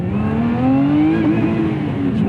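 A 2024 Lotus Emira with a Milltek exhaust set partially open revs up, its engine note climbing smoothly and steadily in a loud, close, sustained drone, then easing slightly, with no speech.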